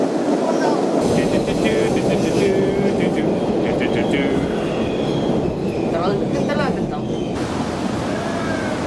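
An MBTA commuter train rumbles steadily past close by, a loud continuous roar of wheels on rails with brief metallic squeals rising over it.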